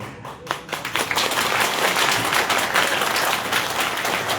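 A crowd at a political rally in Uttar Pradesh claps together in a dense, sustained burst of applause that swells after a brief start and holds loud to the end.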